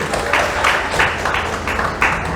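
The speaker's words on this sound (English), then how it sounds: "Let's give it a round of applause for the Greasy Spoon today." A small crowd applauds inside the Greasy Spoon diner in Pearland, a dense wash of clapping with a steady pulse of rhythmic bursts and no one speaking over it.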